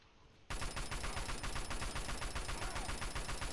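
Enemy gunfire in the video game Fallout 3 erupts abruptly after a brief quiet moment. It becomes a loud, dense, continuous stream of rapid automatic shots that holds steady to the end.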